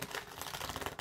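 Rapid dense clicking and flapping of a stiff tarot deck riffled together, a continuous crisp clatter for about a second, close up.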